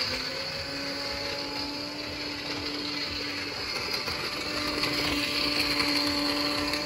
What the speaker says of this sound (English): so I get like a little blender here